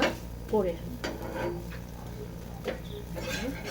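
Vegetable batter bread frying in a pan as it is flipped, soft steady sizzle with scraping and tapping of a spatula against the pan, under someone talking close by.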